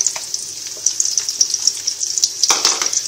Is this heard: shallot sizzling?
yes